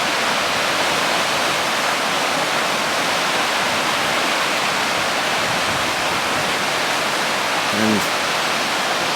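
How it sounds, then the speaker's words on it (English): A waterfall cascading in the Scottish highlands on a sunny day, a loud, continuous broadband rush of pouring water heard close by, with a brief faint thump near the end. "flowing down here in glorious sunshine and then cascading over a waterfall down there, pouring down there."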